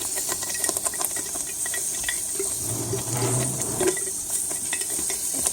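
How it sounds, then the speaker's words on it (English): Tomato sauce poured into hot oil in a pan on a stove turned down to medium-low, giving a steady hiss and sizzle with scattered pops and some clatter throughout, no talking. "it's going to start popping when you add that liquid because you're adding liquid to oil"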